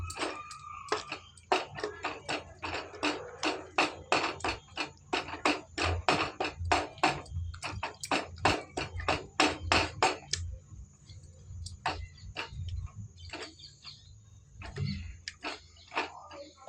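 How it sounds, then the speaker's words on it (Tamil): Cooked toor-style dal, pressure-cooked for Mysore paruppu sambar, mashed with a wooden masher in a pot: rapid clacking and scraping strokes in a dense rhythmic burst that thins out after about ten seconds, close and moderately loud. "கொஞ்சமாக இந்த மத்து போட்டு கொஞ்சம் மசிச்சுக்கலாம்"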